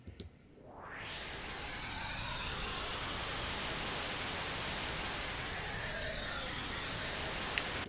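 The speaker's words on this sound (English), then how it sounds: "they've got some white noise which really fills out" A synthesized white noise hiss layered in an old school jungle track sweeps open over the first second, then holds as a steady, loud, dense hiss.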